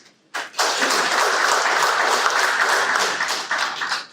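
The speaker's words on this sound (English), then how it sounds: "Can we clap harder" After silence, audience applause bursts in suddenly and holds as dense, even clapping from a room full of people, tapering slightly near the end.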